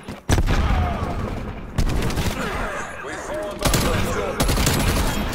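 Rapid-fire gunfire and bursts from a Call of Duty Cold War match, several loud volleys starting abruptly and sustained between brief pauses, with game effects underneath.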